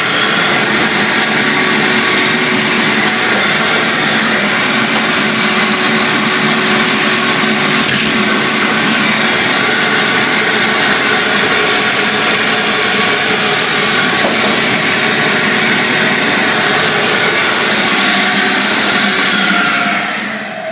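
A vacuum cleaner roars loudly and steadily for about twenty seconds while sucking up debris during apartment maintenance, with a constant high-pitched whine and airflow rush and no pauses.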